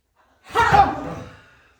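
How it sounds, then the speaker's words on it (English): One deep, audible inhalation during a Hatha yoga breathing exercise, swelling quickly and then fading over about a second in a quiet room. "Breathe in."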